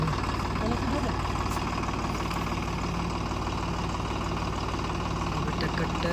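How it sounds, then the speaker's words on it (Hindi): A tractor engine running near a house-building site where bricks are being unloaded, a steady low idling rumble with a knocking beat that holds at a constant level, faint and unbroken. "ट्रैक्टर निकलने लगा है, तो ट्रैक्टर चालू हो गया"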